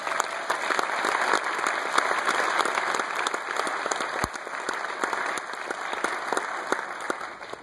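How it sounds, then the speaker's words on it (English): Applause from a school Christmas concert audience, crisp individual claps forming a steady, fairly close round of clapping that carries on for several seconds without speech. "Let's give them a round of applause, please."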